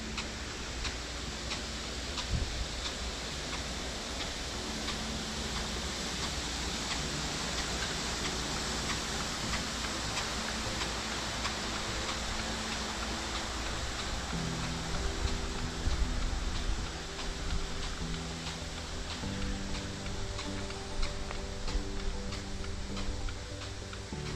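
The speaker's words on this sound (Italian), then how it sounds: "è sempre bello vedere l'irrigazione a pioggia" Sprinkler irrigation sprays a cornfield in the countryside near Cremona, a dense, rain-like hiss with faint repeated ticking running continuously for over twenty seconds at moderate distance.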